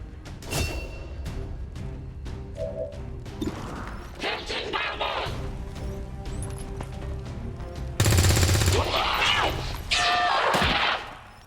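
Grenade blasts and bursts of gunfire from the XCOM 2 video game, a loud crash near the end among rapid shots, with game voice lines and talk heard throughout.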